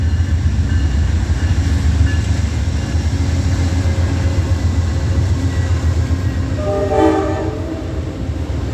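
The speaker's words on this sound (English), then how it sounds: "Here we got an Amtrak coming through." An Amtrak passenger train rolls past on the tracks near Washington, D.C., a loud continuous rumble of wheels and cars with a brief horn-like tonal burst partway through.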